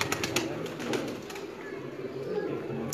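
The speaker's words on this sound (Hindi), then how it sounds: "इमरान साहब के साथ हम आपको दिखा रहे हैं उस्ताद मियां नज़ीर साहब वाले कबूतर" Pigeons in a loft at Lilyani give low, soft coos close by against a faint background of other birds and some quiet talking.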